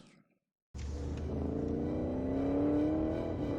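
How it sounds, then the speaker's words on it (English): Car engines revving in a car chase scene from The Night Agent, silence and then a sudden loud rumbling roar that builds steadily as the engine accelerates, heard close with no voices. "Oh boy, now a car chase."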